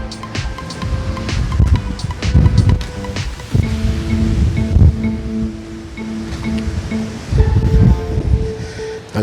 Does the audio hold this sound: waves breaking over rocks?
yes